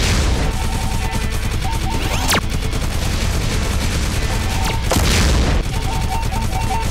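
Loud, dense video-game combat noise from Galaxy Warfighter, a continuous roar of blasts with sharp bursts around the middle and a heavier explosion near the end, no voices.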